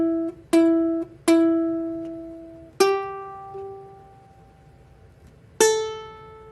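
Three plucked ukulele notes sound one after another, each a clean bright attack ringing out and decaying, with a fourth pluck near the end, close and alone with no talking.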